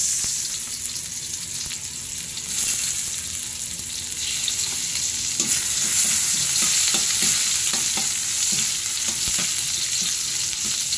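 Onions hitting a hot pan, a loud sizzle that swells after a couple of seconds, then a run of scraping, clattering stirring strokes over the continuous frying.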